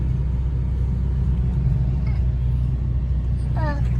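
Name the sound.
car engine rumbling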